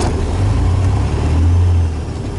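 A car with an auto-shift clutch transmission pulls away from a stop, its engine giving a steady low drone that rises briefly, heard from close inside the vehicle with no talk.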